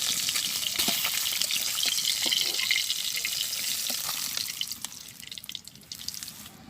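Fish frying in oil in a wok in a village kitchen, a steady close hiss with faint crackles and drips that thins and grows patchier toward the end.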